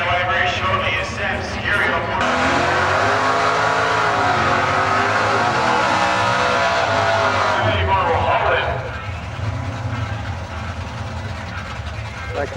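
A Camaro drag racing car launches down the strip with a loud roar that builds and holds for several seconds, then fades into distance under an announcer's voice.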